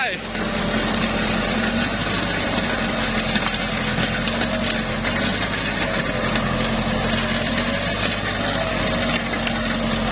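A Kubota L4708 tractor drives in rabbit gear two while plowing an old rubber plantation. The engine drones steadily and loudly up close, with no break across the whole stretch.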